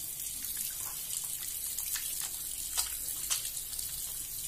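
Vegetables rinsed under a running kitchen tap during sanitizing, a steady broad hiss of flowing water with a few brief splashes and clinks, close and continuous without talk.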